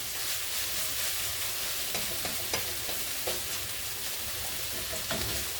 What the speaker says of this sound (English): Start smelling that ginger cooking, smells delicious.